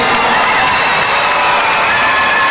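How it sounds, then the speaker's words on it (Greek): A Greek audience cheers and claps for its female athletes at an event, a dense, loud and continuous crowd roar with shouts and whoops throughout. "Χειροκροτήστε σας παρακαλώ τις αθλητριές μας"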